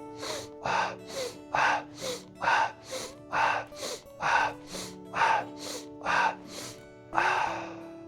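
Thirteen sharp, noisy nasal sniffs taken at a steady rhythm of roughly one every half second during a Strelnikova breathing exercise, close and clear over a soft sustained music bed.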